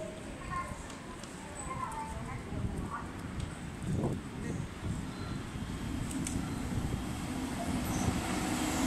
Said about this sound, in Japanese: まもなく1番線を列車が通過します。